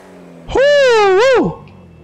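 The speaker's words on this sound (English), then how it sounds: "Let's flip on the second kit of nitrous now." A loud GTA 5 drag car with a second nitrous kit engaged lets out one rising, wavering engine whine that swells sharply, holds strong for about a second, then bends upward and drops away.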